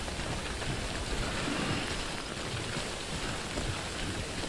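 Rain falls steadily in the Death Stranding video game, a soft, constant hiss of droplets with no breaks, fairly quiet and uniform across the whole stretch.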